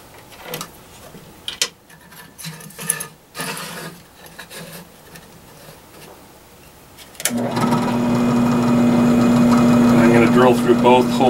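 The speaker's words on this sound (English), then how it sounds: "Drill through both holes all the way through." Drilling holes about 150 thousandths in size through a metal gamma strap for a 2 meter halo antenna: a steady, loud drill whine starts partway through and runs continuously to the end, after a stretch of quieter handling noises.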